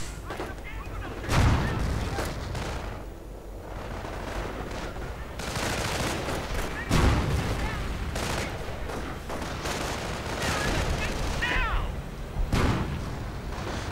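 Self-propelled artillery and gunfire in a World War II strategy video game: repeated heavy booms and crackling volleys over a dense battle din, with someone commentating throughout.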